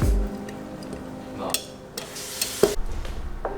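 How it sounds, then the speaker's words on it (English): Coconut milk being stirred with a knife in a jar, giving soft intermittent scraping and light clinks against the glass, close and fairly quiet. "I'm using a knife to stir it around."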